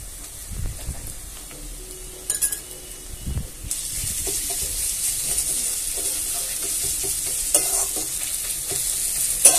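Ground spice paste and browned onions fry in a pan, first with a few clattering spatula knocks and stirs, then a steady, broad, close sizzle that swells toward the end.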